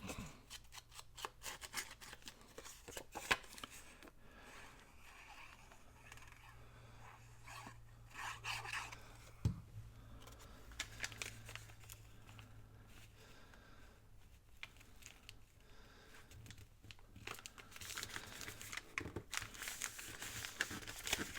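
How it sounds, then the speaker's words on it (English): Paper being torn by hand for a craft-fair journal, a series of short rough rips and crinkles close up, with a low steady hum beneath and no talking. "Go ahead and tear this so it won't be straight."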